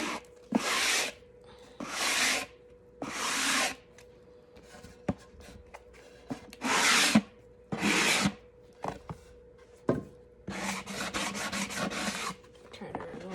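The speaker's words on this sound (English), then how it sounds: "I am sanding with the grains from what I recall," Hand sanding along the grain of a wooden cutting board: a series of separate raspy strokes, each about half a second long with short pauses between. The strokes come in an irregular rhythm and finish with a quicker run of short rubs.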